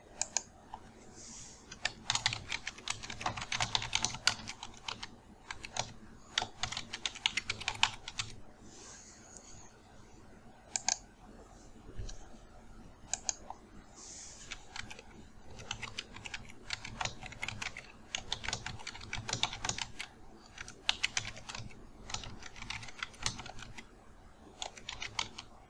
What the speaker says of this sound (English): we're going to go ahead and start typing